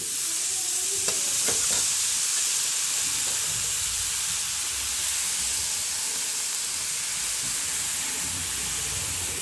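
Chopped green chickpea leaves sizzle steadily in a frying pan as they are stirred, with a constant hiss and a few scraping clinks of the spoon near the start, close and alone.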